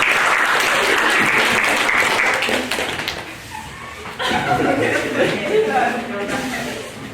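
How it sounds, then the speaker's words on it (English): Audience applause at an after-prom hypnotist show, loud clapping that fades midway and then picks up again at a lower level, with some chuckling and voices mixed in. "Give them a big round of applause, ladies and gentlemen."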